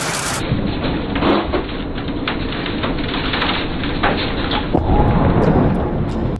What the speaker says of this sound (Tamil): ஒரு மின்னல் அந்த கார் ரூஃப்ல தாக்குது